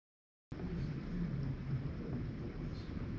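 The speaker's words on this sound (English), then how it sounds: "strong thunderstorms quickly approached my area from Delmarva and southern New Jersey, producing lightning, heavy rain, and damaging winds" Thunder from a strong thunderstorm with lightning, heavy rain and damaging winds sweeping in from Delmarva and southern New Jersey, starting abruptly as a sustained low rolling rumble that stays steady and fairly faint.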